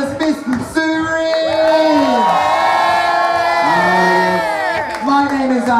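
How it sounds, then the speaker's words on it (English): An audience cheers and whoops loudly for drag performer Miss Candy at Mollie's, sustained shouting voices filling the room in a continuous roar. "So we give a big round of applause for Miss Candy."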